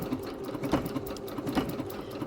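A sewing machine runs a blanket stitch around a quilt label sewn onto a quilt back, a steady close mechanical whir with rhythmic needle taps, alone and fairly loud.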